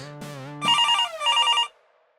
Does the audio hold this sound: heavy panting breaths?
no